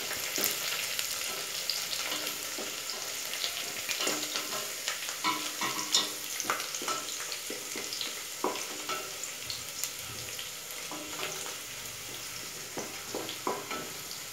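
Onions with nutmeg and whole spices frying in a pan for a goat head curry, a steady close sizzle broken by repeated scraping stirs of a spoon against the metal.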